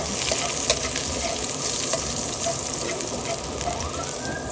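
Garlic sizzles loudly and continuously in hot oil in a pan for adobo, with brief stirring clicks and scrapes, close and steady throughout.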